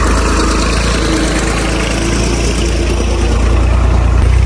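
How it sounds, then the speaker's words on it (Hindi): Tractor engine rumbling past at night on a rural road, a loud, steady low chugging drone that stays close and constant throughout, with no talking. "दो ट्रैक्टर गुजर चुके हैं जी,"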